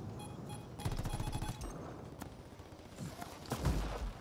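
Gunfire in the Anthem video game, with bursts of rapid automatic shots and scattered single cracks, fairly quiet and mixed with other game sounds.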